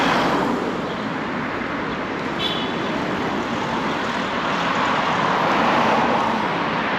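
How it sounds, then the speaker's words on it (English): Cars pass along a street in Sarajevo, Bosnia, producing a continuous whooshing wash of traffic noise that swells slightly as a vehicle draws close near the end. "I like the noise of the cars going through"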